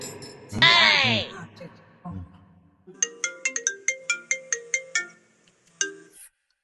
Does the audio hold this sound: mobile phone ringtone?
yes